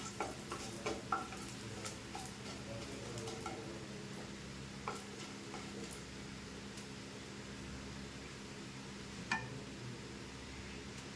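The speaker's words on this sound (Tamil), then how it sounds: "போட்டு அதையவே கருகாமல் அப்படி வதக்கி விட்டுக்கணும்." Whole cloves, cinnamon and cardamom sautéing in a pan as the base for a country chicken curry, a faint steady sizzle with occasional soft clicks of stirring.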